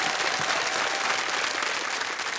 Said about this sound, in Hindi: तालियों के साथ मैं चाहूंगा कि इनका स्वागत करें।